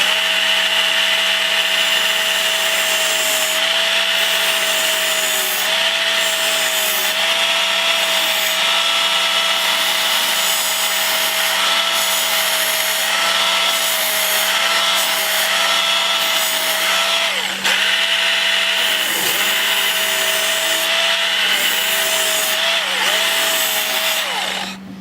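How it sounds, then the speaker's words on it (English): A blade is sharpened on a powered grinder to remove dings and put on a bevel, a loud continuous whine and grinding hum that runs steadily throughout with slight dips in pitch, and no talk. "take out the dings out of the blade and kind of give it a good bevel"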